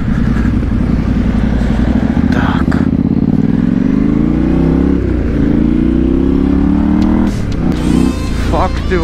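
Yamaha Ténéré 700 motorcycle ridden off-road on wet grass, its engine droning loud and close with rising revs and a low rumbling tone, while voices talk over it.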